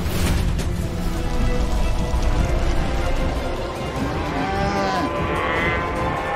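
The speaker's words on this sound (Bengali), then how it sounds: "গাভীরা সব চিৎকার করে ডাকছে" Cows lowing loudly in a pastoral Vrindavan setting, several drawn-out, rising and falling moos overlapping near the listener against a steady background din.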